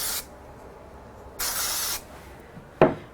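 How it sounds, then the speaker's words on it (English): Short hissing bursts from a spray can misting a cut paper card sentiment, two quick sprays close by followed by a sharp tap, with quiet pauses between. "So I'm going to give this a quick bit of spray."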